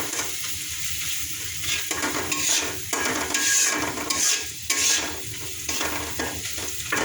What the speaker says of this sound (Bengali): এটা অনেকটা ফ্রাই করে ফেলতেছে।